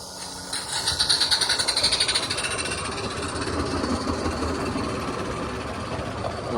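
A live steam radio-controlled model locomotive named Billy runs close by, chuffing rapidly and steadily with a loud mechanical clatter that holds an even rhythm throughout.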